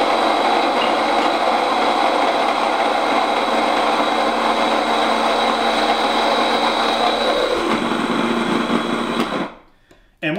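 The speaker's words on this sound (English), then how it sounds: "So what I've got here is a grinder that will actually grind these wheat berries and make what is traditionally called your whole wheat flour" An electric grain mill grinds wheat berries into whole wheat flour with a steady, loud, high whine and rough grinding texture. The sound runs alone for about nine seconds, then cuts off abruptly.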